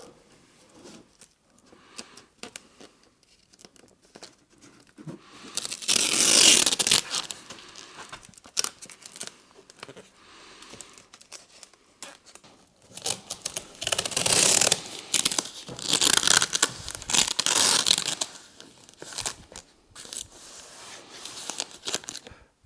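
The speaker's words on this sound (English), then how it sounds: "That is it duct taped off" Duct tape is torn off the roll to mask a car's headlights and the chrome trim beneath them. Two long, loud ripping stretches stand out, surrounded by scattered crinkling and short scratchy tears, close up.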